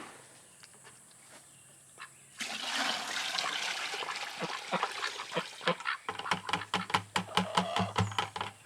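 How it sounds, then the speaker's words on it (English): Duck water poured from a bucket into garden soil, a steady splashing gush that starts abruptly, then breaks into a run of sharp close splashes and spatters near the end, with no talking. "we're just going to pour this duck water right in here and let that get all into that soil"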